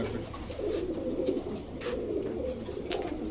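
Racer pigeons cooing steadily in a loft, a low murmuring coo layered from several birds, close and continuous with no talking.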